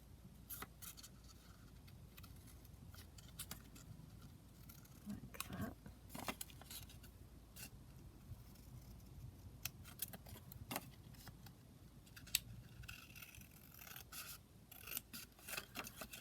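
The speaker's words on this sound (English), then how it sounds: "Just going to cut this banner piece down." Scissors snip through a paper banner cut from book pages and ephemera, a long run of quiet, irregular cutting and rustling at close range with no voice.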